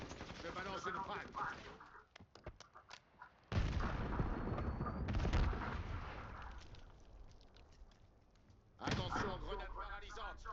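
A video game airstrike hits as a sudden heavy blast, followed by rumbling explosions and scattered gunfire that fade, then another loud impact near the end, with players talking in between.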